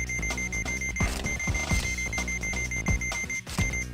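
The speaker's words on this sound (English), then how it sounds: "False alarm." A video game alarm from the surgical game Trauma Center: New Blood, a steady high electronic beeping tone that repeats over a busy, loud game soundtrack with thumping bass hits.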